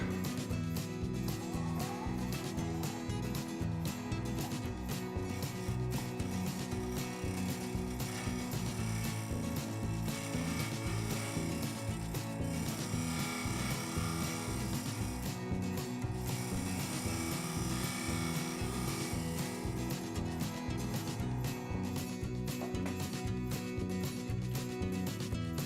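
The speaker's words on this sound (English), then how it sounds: "This Easy Wood Hollower is the only hollowing tool I have that might even come close to doing the job." An Easy Wood Hollower cuts inside a cherry and walnut vessel spinning on a lathe, giving a continuous dense scraping and rumbling drone for the whole stretch at a steady level.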